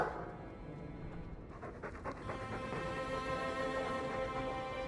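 A dog in Dragon Age 2 pants steadily and rhythmically at close range, layered over a soft musical game ambience with no voices.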